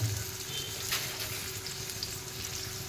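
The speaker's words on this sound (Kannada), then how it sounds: "ಅದಕ್ಕೆ ಸ್ವಲ್ಪ ಈರುಳ್ಳಿ, ಒಗ್ಗರಣೆಗೆ ಈರುಳ್ಳಿ" Onions frying in hot oil for tempering while making chilli chicken, giving a steady, moderately loud sizzle with a brief brighter crackle near the middle and no talk.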